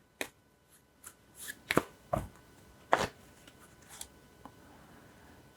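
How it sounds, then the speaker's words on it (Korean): Tarot soul message cards are shuffled and drawn, giving a few soft, close card snaps and slides scattered across a quiet room. "제가 소울 메시지 카드 한번 보도록 할게요."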